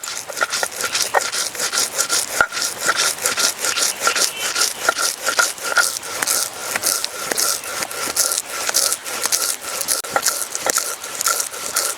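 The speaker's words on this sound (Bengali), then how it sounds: "বাকি চাল, গম, ছোলা শিলে আমি এভাবেই বেটে নেব।" Rice, wheat and chickpeas are ground on a stone slab with a grinding stone, giving a close, continuous gritty rubbing in quick, regular back-and-forth strokes.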